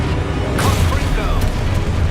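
A Confringo spell explosion from the Hogwarts Legacy video game erupts in a sudden loud burst, followed by rumbling game noise and a couple of sharp cracks that stand out above a steady background.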